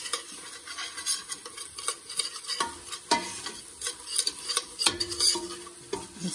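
Flour being stirred into melted butter in a pan to make a roux for cream of mushroom soup: soft sizzling beneath repeated scraping and clinking strokes of a utensil against the pan, close and irregular.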